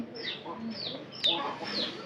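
A pair of pigeons coo softly in a few short, repeated calls at moderate distance, with faint background sound.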